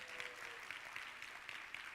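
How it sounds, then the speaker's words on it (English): Applause from an audience at an SME business day event in Johor Bahru, a faint steady patter of clapping throughout. "Can you give me a big round of applause?"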